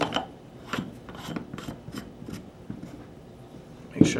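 Parts are screwed back onto a U.S. Army Carver airgun, with the tank adapter and barrel tightened by hand: a series of short scraping, rasping twists spread over a few seconds, close and moderately quiet, ending in a sharper click.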